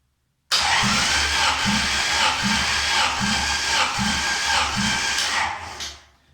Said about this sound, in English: Hold on to the engine again and crank it, or activate the solenoid in this case.